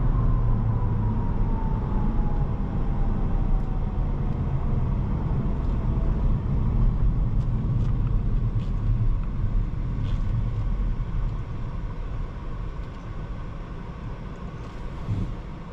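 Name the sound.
Volvo S60 T8 Polestar Engineered car driving fast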